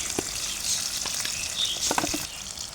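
Cumin seeds hit hot oil with bay leaf already in the pan and fry with a steady, hissing sizzle. Small crackles and pops sound up close, with no talking.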